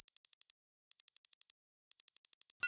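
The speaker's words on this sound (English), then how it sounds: "We have a small timer." Small timer preset on an SFX Pro 9000 synth: three bursts of rapid, high electronic beeps, four quick pips per burst, evenly spaced and clean against silence.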